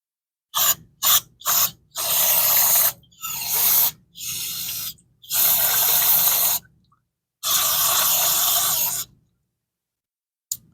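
Fluid gushes in a parts washer on a 1961 Metropolitan barn-find project, arriving in a series of loud hissing spurts: several quick bursts at first, then longer steady flows separated by short silences.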